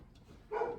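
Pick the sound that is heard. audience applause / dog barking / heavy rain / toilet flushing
dog barking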